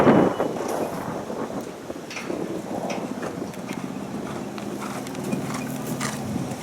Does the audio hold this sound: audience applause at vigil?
no